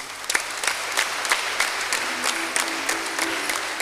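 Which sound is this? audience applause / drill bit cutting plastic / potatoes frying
audience applause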